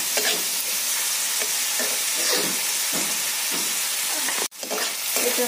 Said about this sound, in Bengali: এবার একটু এটা ভাজা ভাজা করে নিই।